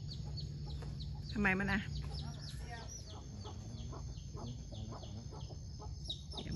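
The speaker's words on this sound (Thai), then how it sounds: "ทำไมอ่ะจับแม่ไก่ลูกไก่ขึ้นบ้านกิจวัตรประจำวันทุกเย็น" A hen and chicks cluck and murmur close by in a steady, busy stream at evening, with a person speaking briefly over the birds.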